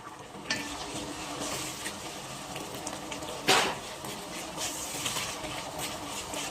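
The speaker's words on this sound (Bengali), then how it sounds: "তারপরে আদার পরে আদাটা একটু ভুনে নেবেন" Ginger and garlic frying in a pan with steady soft sizzling throughout, occasional stirring scrapes and one sharper utensil clank partway through, no voices.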